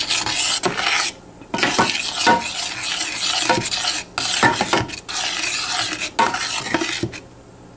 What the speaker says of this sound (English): Sprinkle 1 teaspoon cornstarch and mix it now.